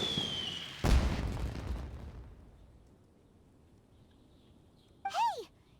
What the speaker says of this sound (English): Did you hear that explosion? Maybe it was fireworks.